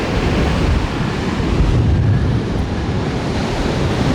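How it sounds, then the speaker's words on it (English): Steady roar of Atlantic surf crashing on the beach at Tybee Island, Georgia, with strong wind buffeting the microphone throughout; no voices, just continuous loud rushing noise. "It's super windy, but this is Tybee Island."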